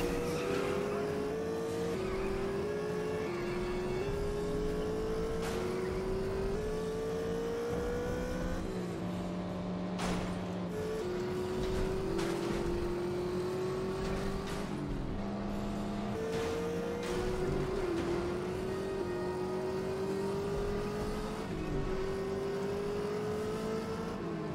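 Race cars in the video game The Saboteur, engines repeatedly revving and climbing through gears in rising whines, with tire squeals and skids, loud and steady throughout.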